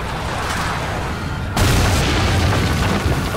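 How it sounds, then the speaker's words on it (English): A loud, rumbling explosion in the video game Ryse: Son of Rome bursts in suddenly midway, a continuous roaring boom that lingers after a steady background hiss. "Must have a lot of explosions."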